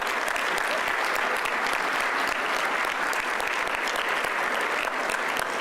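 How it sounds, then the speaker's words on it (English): A luncheon crowd at the 16th annual Latinos Unidos gathering claps steadily, a full, even wash of applause from many hands lasting several seconds without talk. "So please give yourselves a round of applause."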